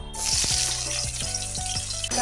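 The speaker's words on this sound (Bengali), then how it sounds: "বেগুনটা ভেজে তুলে নিয়েছি আর ওই তেলের মধ্যে আমি এখন কুমড়োটা ভেজে নেব।" Pumpkin pieces fry in hot mustard oil in a wok after aubergine, a loud continuous close sizzle with a few soft knocks of utensils.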